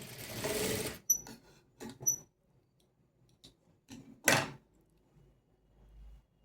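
A sewing machine stitching a folded-in raw edge on a three-dart blouse gives one brief loud burst of running, then falls to scattered light clicks and taps from handling the fabric.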